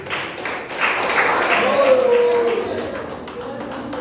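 A church congregation claps for Jesus during a service, with steady, dense applause filling the room for about four seconds while a voice carries over it.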